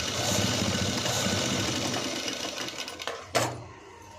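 A sewing machine runs in a steady fast whir as it stitches cloth, then slows and stops with a brief clunk near the end.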